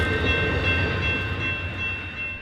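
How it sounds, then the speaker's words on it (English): Amtrak train departing Kalamazoo station in snow, a steady rumble of rolling cars with a high tonal whine, loud and close and easing slightly toward the end. "After filming our train as it departed Kalamazoo"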